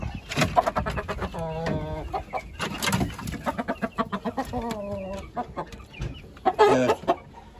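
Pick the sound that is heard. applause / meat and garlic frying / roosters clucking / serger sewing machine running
roosters clucking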